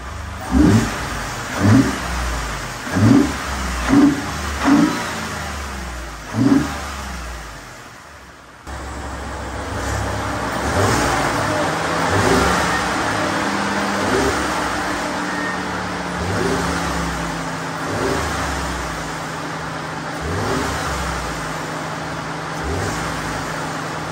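A 2015-2020 Ford F-150 EcoBoost pickup fitted with a cold air intake, heard close with no talk: a run of about six sharp revs first, then a short break and a steady, throaty idle that holds.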